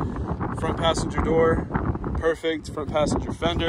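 Gusty wind buffets a microphone outdoors in Oklahoma beside a 2022 Jeep Wrangler Unlimited Sahara Altitude, a steady rumbling roar under someone talking throughout.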